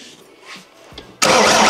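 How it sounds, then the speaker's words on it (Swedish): A diesel engine being swapped into a vehicle is cranked over. Quiet shuffling comes first, then the starter kicks in abruptly with a loud, harsh, close-up grinding roar. "Försök nummer två, det är att riva runt motorn."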